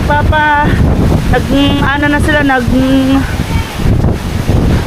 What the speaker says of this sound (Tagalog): Hindi ka makaraan sa sobrang lakas ng hangin.